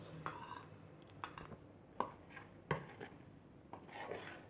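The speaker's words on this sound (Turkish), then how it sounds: "Şimdi bunu salatamıza döküp güzelce karıştırıyoruz" Green lentil salad being mixed with a dressing of salt and sumac, a utensil tapping and scraping a bowl in several soft, irregular clinks, quiet and close, with no voices.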